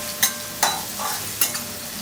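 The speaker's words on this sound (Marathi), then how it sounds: "आता जर हा तेलावरती 2 ते 3 मिनिटं हा चांगलासा परतवून घ्यायचा" Finely chopped onion sautéing in hot oil, with a steady sizzle broken by three or four sharp stirring scrapes, close and loud, with no talking.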